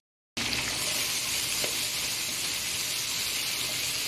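Garlic, onion and ginger sautéing in a hot pan, bursting into a loud, steady, crackling sizzle after a brief silence and holding evenly throughout, with no talk.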